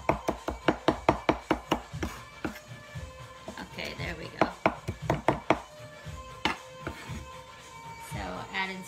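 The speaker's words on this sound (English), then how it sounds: "Just chopping up some cilantro really fine." A knife chops cilantro finely on a cutting board in a kitchen, producing a fast run of close, sharp taps that slows into scattered strokes while someone talks.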